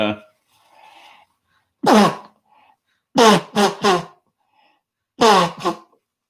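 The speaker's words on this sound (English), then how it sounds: "I got to blow my nose here" A few sharp nasal blasts and snorts, like someone blowing their nose, come in separate bursts with quiet gaps between them.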